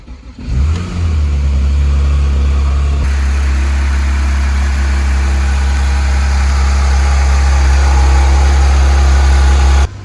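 A salvage-auction Porsche 911 GT3 RS, crash-damaged, cranks and fires with a sharp rev, then settles into a loud, steady, close idle with a deep rumble that holds to the end.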